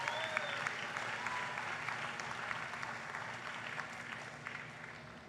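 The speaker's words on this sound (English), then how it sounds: "Give yourselves a round of applause for your achievement." Graduates applaud at a university graduation ceremony: a steady, diffuse wash of many hands clapping in a large hall, faint and distant, slowly tapering off toward the end.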